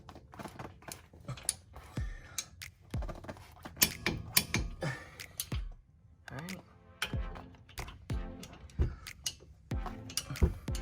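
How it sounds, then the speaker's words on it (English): Torque wrench clicking and ratcheting while a mechanic tightens brake caliper bracket bolts on a 2015 Toyota RAV4 during a front brake job, giving sharp, irregular close ticks and clacks, with someone talking in between. "I'm gonna torque the bolts to the dealer's specified torque"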